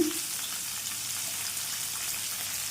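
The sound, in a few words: coriander stems and garlic frying in a pan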